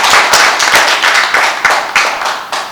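An audience at a table-seated gathering claps as guests are introduced, a close, steady patter of many hands lasting a few seconds, with no talk over it.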